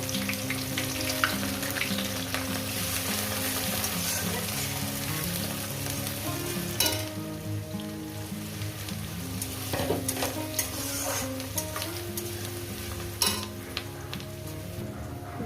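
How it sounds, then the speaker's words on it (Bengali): Cumin and onion fry in a pan for mutton curry, with a continuous close sizzle and regular stirring scrapes, plus a few sharp clinks of a utensil against the pan. "কয়েক সেকেন্ড ভেজে নিয়েছি এরপর দিয়ে পেঁয়াজ কিছুটা"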